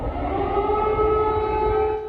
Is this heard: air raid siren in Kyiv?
yes